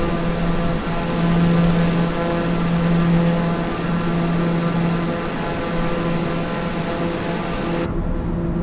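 Engine noise from a Citation X jet in a flight simulation game forms a loud, steady droning hum that holds nearly unchanged throughout and cuts off abruptly near the end.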